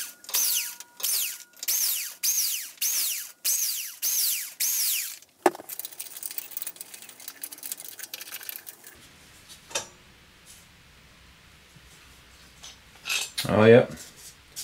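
Hand tools work on a lawn mower engine as the cylinder head comes off, with a run of rhythmic metallic scraping strokes followed by scattered clinks, taps and rattles of parts, close and fairly loud.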